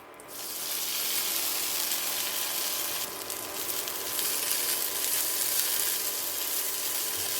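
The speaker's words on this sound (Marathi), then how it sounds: "वटाणे फोडणीमध्ये परतून घेतलेले आहेत" Boiled green peas fry in a spoonful of oil with cumin tempering, giving a steady close hiss of sizzling that swells slightly as they are stirred, with no voices.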